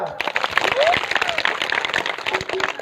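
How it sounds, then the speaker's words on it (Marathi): An audience at a kirtan claps steadily throughout, a dense patter of applause running under someone speaking loudly. "जरा टाळ्या वाजवा"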